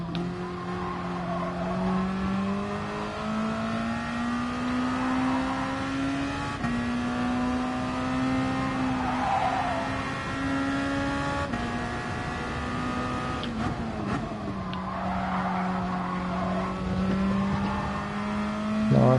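A race car in Gran Turismo Sport drives a lap, its engine droning and rising through the gears while it accelerates out of corners and the tires squeal as it slides. The engine note is steady and close throughout.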